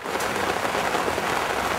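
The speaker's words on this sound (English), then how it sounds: "The bad news is it's raining like you've never seen." Heavy rain pours down steadily, a dense close hiss of drops pattering on a surface without a break.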